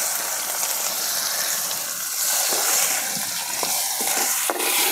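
Chopped onion fries in hot oil with bay leaf, nigella and cumin for a Bengali hilsa dish, making a loud, continuous close-up sizzle broken by a few scraping stirs.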